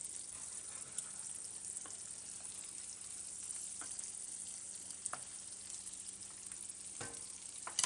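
Shrimp frying in a pan, a steady close hiss of sizzling oil with occasional faint clicks and pops, no talking.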